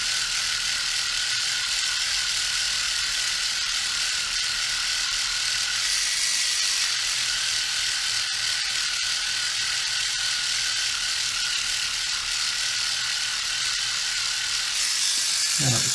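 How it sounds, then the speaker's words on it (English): A Dspiae reciprocating sander works a surface, giving a loud continuous buzzing, rattling whir up close that holds steady throughout and cuts off abruptly at the end, with no talking. "I'm not trying to lean on the sander too much."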